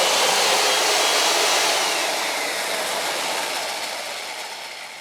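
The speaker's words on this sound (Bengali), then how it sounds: "লকের চাপ দিয়ে আমি এখানে মেশিন চলতেছে।" An electric tree-cutting chainsaw runs steadily with a dense, high buzzing whine that stays loud and close, easing off slightly in level toward the end, with no speech.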